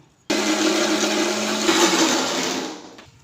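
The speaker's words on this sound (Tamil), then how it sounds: "இஞ்சி பூண்டு பேஸ்ட்டு நாங்களே எப்பயுமே அரைச்சி வச்சுக்குவோம் பாருங்கள் அரைக்க போகிறோம்" A kitchen mixer grinder whirs loudly as it grinds ginger and garlic into paste, starting abruptly, holding a steady high-pitched roar for about two and a half seconds, then winding down.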